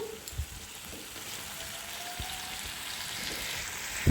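Dal sizzles and fries in a hot pan while home-cooking a traditional Bengali dish, a steady, moderately loud crackle with a few soft knocks and no voices.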